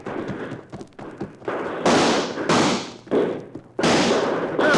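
Several loud, sharp gun blasts crack out in a western radio drama, some bunched close together and others spaced apart, over a busy, rumbling background.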